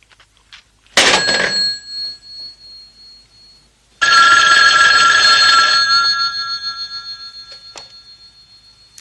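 A telephone rings with two loud bursts of electronic ringing, the first about a second long and the second longer, fading out, with quiet gaps and no talk.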